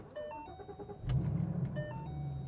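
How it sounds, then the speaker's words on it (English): A 2014 Shelby GT500 Mustang starting: warning chimes ring in the cabin, then the engine catches at about one second and settles into a low, loud, rumbling idle heard from inside the car. "I'm gonna go ahead, crank it up"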